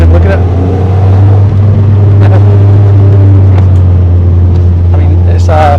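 Car engine fitted with a KMS Thunderstorm exhaust and 5.5 inch slash-cut tips, a steady loud low drone rumbling through a town centre, with someone talking over it.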